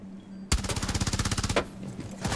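Rapid automatic gunfire in Rainbow Six Siege bursts in loud and close, a steady stream of evenly spaced shots lasting about a second, then a couple of further heavy shots after a short pause.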